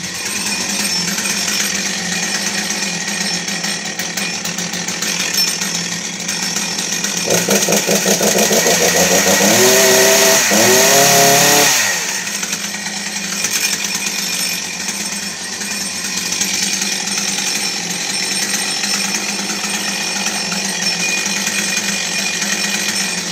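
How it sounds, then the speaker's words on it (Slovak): A Husqvarna chainsaw engine warming up runs steadily nearby, revving hard for a few seconds in the middle before settling back to a rough, loud idle. "A stačí ozaj tomu chvíľka, nech sa len píla zohreje trochu"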